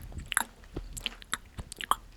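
A person imitating loud chewing with their mouth, producing wet smacking and crunchy clicks in an irregular rhythm, close and fairly loud with no talking over it.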